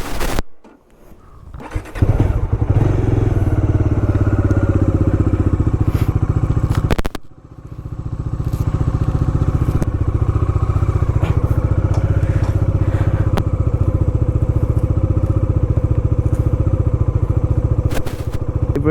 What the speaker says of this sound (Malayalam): നമ്മൾ ജസ്റ്റ് ബൈക്കിന് എൻജിനൊന്ന് വാം അപ്പ് ചെയ്യാൻ വയ്ക്കാം.